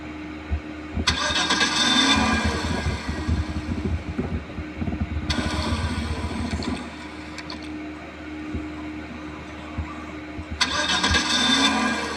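A stalled car engine in a video game cranks and sputters, trying to start in repeated long bursts with brief pauses, loud and close, with no speech.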